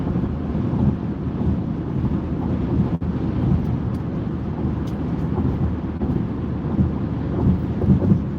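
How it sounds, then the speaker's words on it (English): Strong wind blows outdoors during a driving lesson, buffeting the microphone in a steady, loud, low roar that lasts the whole stretch, with no talking. "You're right, it's very windy."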